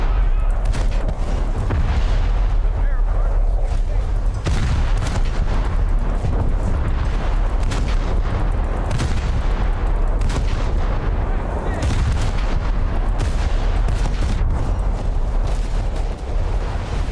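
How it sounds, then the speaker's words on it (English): Heavy naval guns in an online warship battle fire broadside in a relentless stream of deep booms and blasts, loud and dense for the whole stretch, with a voice faintly talking underneath. "Get turned broadside so I can at least fire some good sized rounds over there"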